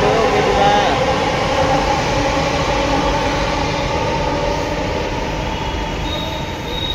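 A metro train pulls into a station, its wheels squealing and the carriages rumbling loudly and steadily nearby, the noise slowly easing as it comes to a stop.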